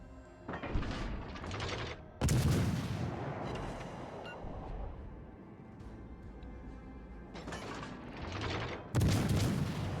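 Warship main guns fire in World of Warships Legends, several heavy booming salvos at irregular intervals with rumbling mechanical noise between them, moderately loud and with no talk.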